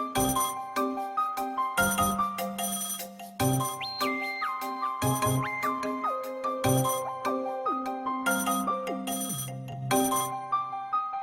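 A phone rings with an incoming call, a repeating melodic electronic ringtone of bright chiming notes in regular bursts, moderately loud with no voices.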